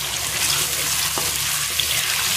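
Garlic ginger paste and whole cumin seeds fry in hot oil, giving a steady, close, even sizzle with a single small clink partway through.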